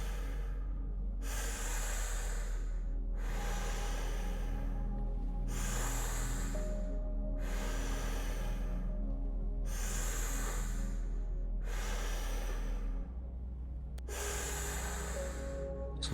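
Deep, rhythmic breathing during a visualisation exercise, eight long breaths at an even pace, each a loud, airy rush close to the microphone, with a steady low hum underneath.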